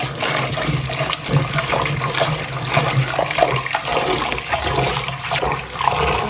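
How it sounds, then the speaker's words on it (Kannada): Grapes being washed in water, a loud continuous rush of running, splashing water with small sloshing and clattering movements throughout. "ಎರಡು ಮೂರು ಸಲ ತೊಳಿಬೇಕಿದೆ ಐದು ಸಲ ತೊಳಿಬೇಕು"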